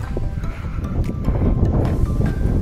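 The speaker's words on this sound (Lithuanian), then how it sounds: "vėjas tai baisus" Strong, cold wind gusting outdoors in a manor park in Lithuania, buffeting the microphone as a steady low roar with brief rustling bursts, no talk over it.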